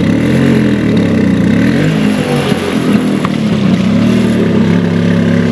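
A motorcycle engine revs hard and loud while ridden through a river off-road, a close, sustained throaty drone with rising and falling pitch throughout.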